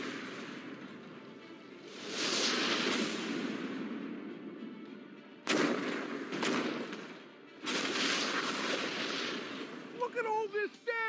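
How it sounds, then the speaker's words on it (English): Loud cannon blasts boom out in a short burst of three heavy reports, blasting holes in a boat, over a steady rushing background, followed by brief chirpy sounds. "I'm gonna blast holes in that boat with this cannon."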